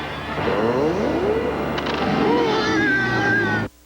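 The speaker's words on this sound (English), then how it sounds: "He got scared by a dumb cat." A cat yowls in drawn-out, wavering meows over a dense, noisy background, with a rising whine near the end before it cuts off, in a 1996 television commercial.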